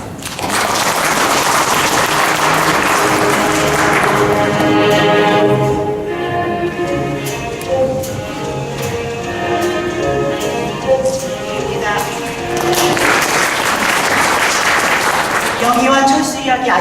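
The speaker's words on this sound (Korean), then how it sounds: "뜨거운 박수로" An audience clapping warmly to welcome a lecturer onto the stage at a community concert event, a loud, sustained wash of applause with music and voices mixed in.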